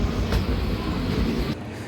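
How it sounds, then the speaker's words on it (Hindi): A passenger train departing Udaipur railway station, heard from on board as a steady low rumble and rattle of rolling wheels, with brief clanks and a shift in tone near the end; no one speaks. "सो फाइनली हमारी ट्रेन निकल चुकी है उदयपुर रेलवे स्टेशन से।"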